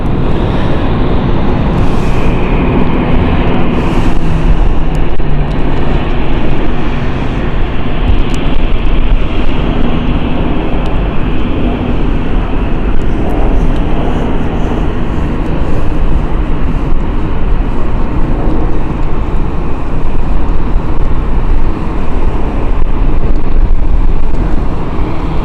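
Aircraft above London City Airport, a steady, loud broadband roar holding throughout with constant rumble and no clear rise or fall, wind buffeting the microphone.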